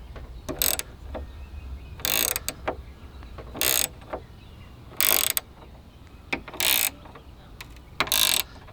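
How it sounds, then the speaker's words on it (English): A ratchet wrench clicks in short, loud bursts roughly every second or so while snugging down the bolts on billet hatch hinges of a third-generation Camaro, with quieter pauses between strokes and no talking. "Help if I had my wrench the right direction."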